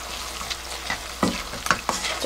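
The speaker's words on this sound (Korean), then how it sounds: "이렇게 조금 마른 가지는 약간 촉촉하게 볶아 놓으시는 것도 괜찮거든요" Dried eggplant stir-fried in a pan with perilla seed powder gives a close, steady low sizzle with a few sharper scraping strokes of the stirring utensil. No voices are heard.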